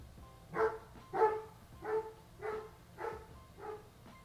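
Pet dogs bark in a steady series of about seven woofs at a moderate distance, evenly spaced and with no talk over them.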